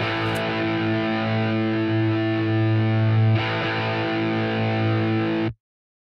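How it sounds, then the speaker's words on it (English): Low crunchy distorted electric guitar plays a sustained root-and-fifth power part, holding one chord then restriking at the midpoint before cutting off abruptly near the end, loud and close with no talking. "And then at measure 9, I bring in the low crunch part,"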